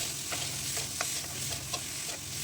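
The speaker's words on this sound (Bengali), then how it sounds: "তারপরে আবার কিছুক্ষণ নাড়াচাড়া করে নিতে হবে" Spices with potatoes and tomatoes fry in a pan for a gang mourola fish curry, a strong continuous sizzle cut by quick rhythmic scrapes of a spatula stirring close by.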